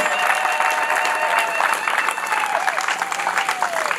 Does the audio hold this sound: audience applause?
yes